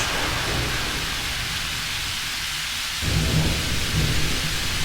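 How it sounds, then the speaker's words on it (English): Synthesized rain hisses steadily while low rumbling thunder swells and rolls in, loud and continuous throughout, from a Hallian Sonic Thunder and Rain keyboard patch. "this is just a Hallian Sonic Thunder and Rain patch"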